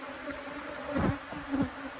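Honey bees buzz around an opened hive with brood frames being shifted, a steady faint insect drone broken by a couple of closer, louder passes as bees fly near.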